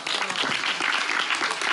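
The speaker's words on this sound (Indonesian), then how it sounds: "Oke, tepuk tangan, Jos." An audience claps together in a short, dense burst of applause that holds at an even level from start to finish.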